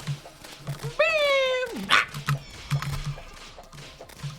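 Terraria boss summon sound from the video game: a rising, whiny bark-like cry of about half a second, followed by a short burst of noise, playing over faint background chatter and small game sounds.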